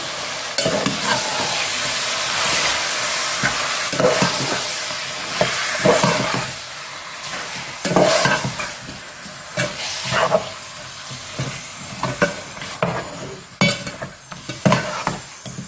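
Ginger-garlic paste is stirred and fried in a pan for a chicken curry. Steady sizzling and hissing runs under repeated scraping strokes of a spoon, close and continuous, with no voices.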